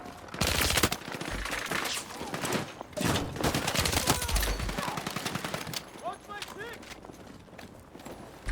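Short controlled bursts from the SGX submachine gun in Battlefield 6, rapid clusters of shots repeating through the clip amid game noise, with someone talking over it.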